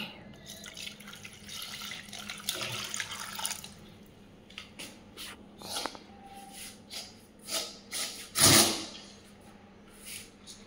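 Water from a tap runs into a bottle while someone carries water in a home, heard as a steady faucet flow with drips and splashes and a louder gush near the end.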